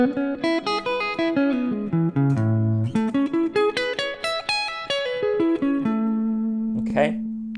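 Major 9 arpeggios on guitar in a neo soul style, with clean picked notes rising and falling in quick flowing runs, sustained chord tones ringing beneath, ending on a held low note with a brief voice at the very end.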